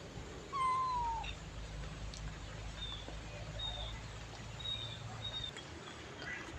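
A pet cat at a temple home in Lampang gives one clear meow near the start, followed by a few faint, thin meows against quiet, steady background hiss.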